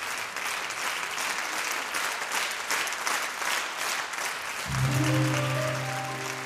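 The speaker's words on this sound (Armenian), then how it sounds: "Մեր շնորհակալություն ձեր զորավոր ծափերուն" A concert audience claps in a dense, sustained round of applause. Near the end, held musical tones enter beneath it.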